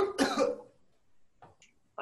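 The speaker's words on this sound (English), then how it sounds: "He coughed." A single harsh cough bursts out close and loud at the start, followed by a quieter throat noise and a short breath in the otherwise quiet pause.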